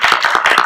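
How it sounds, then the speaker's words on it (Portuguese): Audience at the close of an evening event claps in a quick, even patter of many hands, close and loud, with no talk over it. "E pedir palmas também, né, gente?"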